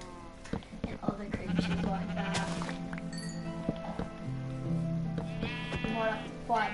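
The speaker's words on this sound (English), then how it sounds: "Oh my god, I just found a black sheep." Sheep in the Minecraft video game give several short bleats, moderately loud against soft in-game background sound, with a brief higher blip partway through.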